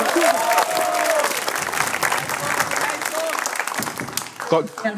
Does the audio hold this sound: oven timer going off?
no